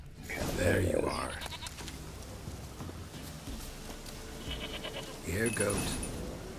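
Bleating goat from The Witcher 3, two distinct loud wavering bleats at the start and end with quieter game ambience and a voice in between.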